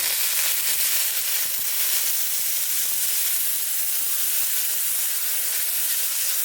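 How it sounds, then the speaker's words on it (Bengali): Water added to a spiced egg curry in a pan, producing a loud continuous steamy hiss and sizzle that stays even and close for the whole stretch. "এখন দিয়ে দেবো পরিমাণ মতো কিছুটা জল"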